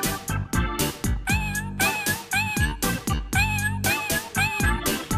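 A cat meows repeatedly in a layered, musical-sounding passage, the cries rising and falling in steady phrases that fill the whole stretch at a loud level.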